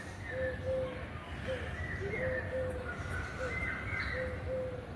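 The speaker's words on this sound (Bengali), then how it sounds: "ঘুঘু ডাকতেছে দেখেন" A dove coos repeatedly from trees near a rooftop on a medical college campus, soft mellow notes in short repeated phrases, moderately distant, over a low background hum of outdoor ambience.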